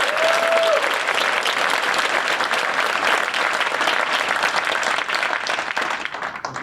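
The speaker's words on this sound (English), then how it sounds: "Let's give him a round of applause." A large audience at an Air Force wing change of command ceremony applauds a new command chief, loud sustained clapping filling the room evenly for several seconds before starting to thin and fade at the end.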